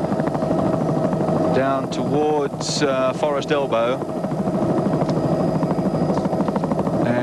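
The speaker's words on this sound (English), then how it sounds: "chopper overhead to get the picture for you" A steady, loud helicopter drone with thumping rotor noise fills the clip, overhead at the 1983 Bathurst 1000 motor race, while someone talks briefly over it.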